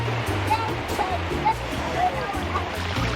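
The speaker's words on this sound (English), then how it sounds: "We should probably start running because it's about to start pouring rain." Heavy rain pours down in a dense, loud, continuous hiss, with a low rumbling undertone.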